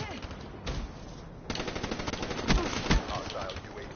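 Rapid automatic gunfire from a Call of Duty: Black Ops 2 match crackles in dense bursts, with several louder shots standing out against the continuous game action.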